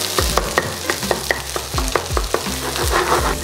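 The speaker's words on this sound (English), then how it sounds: "Once you get a day old rice in, give that a toss." Day-old rice tossed and stirred in a hot pan for fried rice, with repeated scraping clanks of the spatula against metal over a steady close sizzle, about a dozen distinct strokes in quick uneven rhythm.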